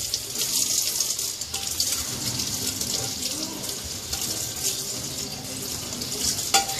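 Tap water runs into a sink while dishes are washed, a steady hissing splash with occasional clinks and clatter of dishes, close and continuous, with no voice over it.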